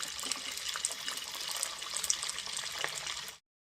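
Corn vadas, spiced with green chilli, are dropped into hot cooking oil and fry with a steady, fairly quiet sizzling hiss with small crackles, which cuts off suddenly near the end.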